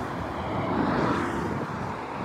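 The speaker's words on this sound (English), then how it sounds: "We have to park at a dead end road next to a very busy road. So it's very loud." Steady broadband roar of traffic on a very busy road beside a dead-end road where a car is parked, a loud continuous wash of passing vehicles with a slight swell in the middle and no voices.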